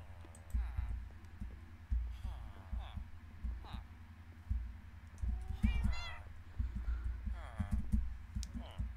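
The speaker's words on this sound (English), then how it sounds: "the other one is Mittens, because they're gonna be named after my cats that I got in real life." A cat in the Minecraft video game meows several times over about nine seconds, short high cries scattered over a low rhythmic thumping background, with a person talking in between.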